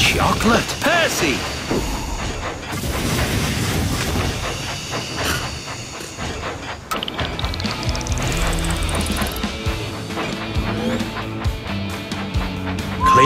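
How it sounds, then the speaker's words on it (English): A toy train engine runs along its track with continuous rattling and clickety-clack, hissing steam-like effects and a rising whistle tone, layered with busy background music and sound effects. "Clear the tracks! Engine coming!"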